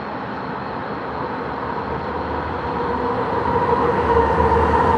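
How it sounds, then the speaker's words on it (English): A train passing on rail in Southern California, a steady rumbling roll and clatter of wagons that grows gradually louder over five seconds, fairly close, with no voices. "And here is a train."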